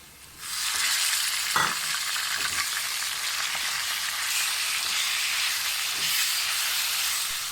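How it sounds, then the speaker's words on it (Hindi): Minced meat sizzles and hisses loudly in a pan with browned onions for keema macaroni, a steady close frying roar with a few stirring scrapes and knocks. "जब ये ब्राउन हो जाए प्याज तो उसमें आप कीमा डाल दें।"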